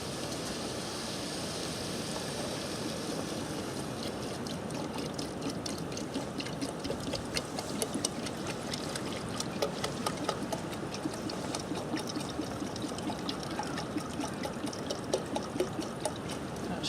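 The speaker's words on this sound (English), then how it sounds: "I'm just going to add the water now." Water poured from a container into a soup pot of chunky vegetables and stock for fisherman's soup, a steady, continuous trickle and splash lasting throughout, close and moderately loud with no talking.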